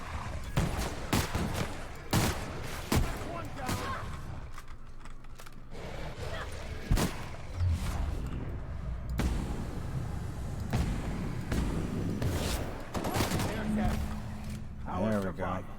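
Shotgun blasts ring out in The Outer Worlds video game as a series of sharp, loud bangs at irregular intervals, with a person talking over the gunfire between shots.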